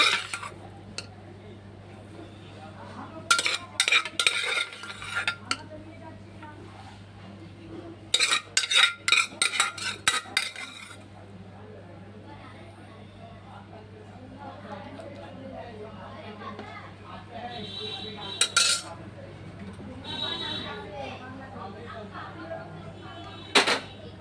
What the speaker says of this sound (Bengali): আমি এবার এই পাত্রের মধ্যে এই গাজর রাইসটা সার্ভ করলাম।